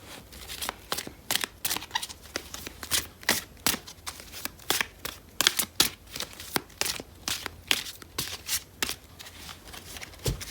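Tarot cards being shuffled by hand, a steady run of quick, crisp riffling bursts repeating close and clear with no voice over them.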